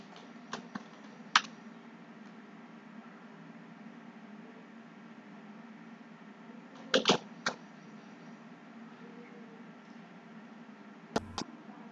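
Typing on a computer keyboard while filling in an online crop insurance form, with sparse isolated key clicks and a short burst of several keystrokes amid quiet background hiss.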